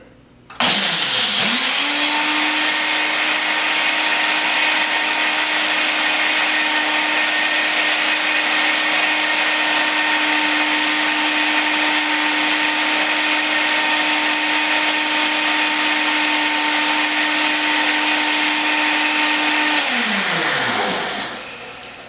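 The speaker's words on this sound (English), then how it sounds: "we're gonna turn it on and blend it till it's smooth" A blender whirs a hemp seed buffalo sauce until smooth. The motor spins up sharply, holds a loud, steady whine for about twenty seconds, then winds down, with no talking.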